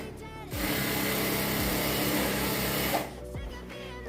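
Motorized stitching runs steadily for about two and a half seconds on a jumpsuit's crotch seam, a dense whirring hum framed by quieter moments before and after, with no talking.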